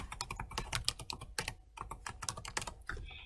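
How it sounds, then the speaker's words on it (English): Rapid clicking keystrokes on a computer keyboard, close and quiet, in a quick irregular burst. "Typing in a password."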